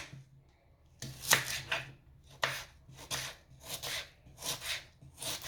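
A knife chops onions on a board in a quick run of crisp, close cuts that arrive in uneven bursts, with no one talking.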